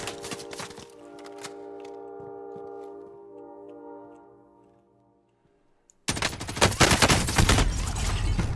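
Rapid gunfire from a weapon in Call of Duty Warzone, a loud dense burst of shots after a stretch of softer ringing game tones, with no talk.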